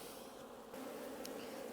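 A steady swarm-like hum of honey bees rises from an opened hive box, constant and close, with a slight lift in intensity partway through and no speech.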